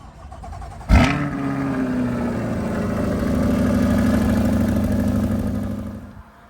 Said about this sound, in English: C8 Corvette with 5 kilometers on it, ready to go. So I'm going to get this thing fired up.